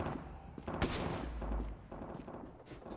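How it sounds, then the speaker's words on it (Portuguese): Rapid bursts of gunfire in a shooting video game crack over a dense, busy game soundscape, with one sharp heavy shot standing out among steady firing. "Ó, tô soltando tiro."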